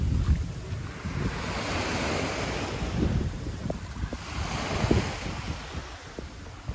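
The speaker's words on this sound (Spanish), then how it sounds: "Guayanilla, Puerto Rico. El famoso mar Caribe." Caribbean Sea surf rolls onto Guayanilla beach in Puerto Rico, with waves breaking in broad repeating swells, heavy wind buffeting the microphone and no voices present.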